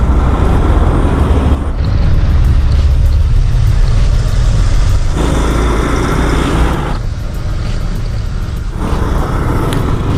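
A Rusi Adventure X 150i motorcycle rides through heavy traffic on EDSA, with a loud, continuous engine and road roar and surging traffic noise that never lets up.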